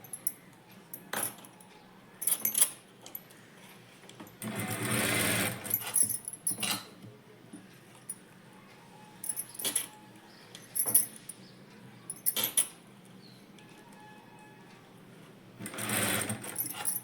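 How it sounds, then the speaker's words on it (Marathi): A sewing machine stitches small pleats into a net fabric sleeve with a puff hand design, running in short close bursts and one longer run, separated by pauses with faint handling clicks. "तिथून पुढं लहान लहान चुन्या द्यायला चालू करायचं."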